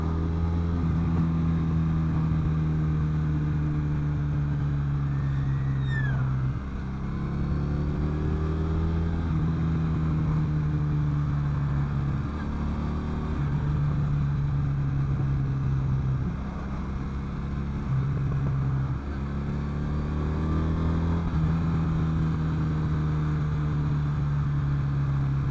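A Triumph Bonneville Brooklands café racer on a country road gives a steady engine drone with a rising and falling pitch as it shifts and accelerates, heard up close under constant wind noise.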